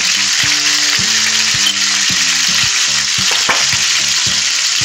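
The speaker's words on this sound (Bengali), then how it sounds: "অল্প জল দিয়ে কষিয়ে নেব" Ground spices with chili powder and salt fry in a pan with a little water for pabda fish jhal, a loud steady sizzle with occasional stirring scrapes over soft music.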